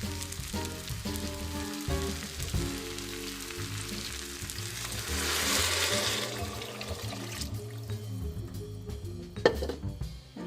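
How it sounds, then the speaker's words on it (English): Water is poured into a soup pot of golden-browned vegetables, beginning with sizzling and frying, then a rushing pour that swells mid-clip before settling into bubbling and a clatter near the end. "after a while they are golden brown, and then we add the water."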